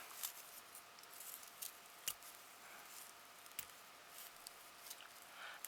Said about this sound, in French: je vais prendre mes petits bouts là et je vais hop, les couper